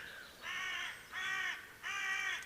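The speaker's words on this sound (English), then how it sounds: "Lovely bird song we're hearing from that crow." A crow caws three times in steady succession beside a pool, each harsh call loud and close with short pauses between, and no talking over it.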